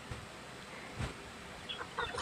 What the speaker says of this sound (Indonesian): Si Pudin lagi ngasih makan ayam itu.